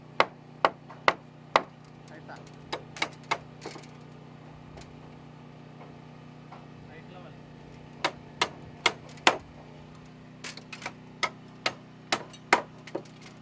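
Sharp hammer strikes ring out during framing of a custom wine-country home, coming in quick clusters of blows separated by pauses, moderately close over a steady low hum.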